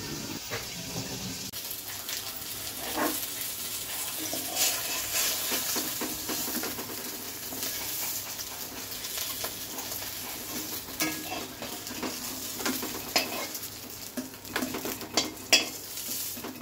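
A boal fish head fries under a lid, giving a continuous dense sizzle with scattered pops and spatters, plus intermittent metallic clinks and scraping of a spatula against the pan.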